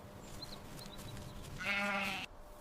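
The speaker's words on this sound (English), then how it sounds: "Sheep. This is a sheep." A sheep lets out one short, wavering bleat, fairly close and clear, lasting about half a second and rising out of a quiet outdoor background with faint bird chirps before it.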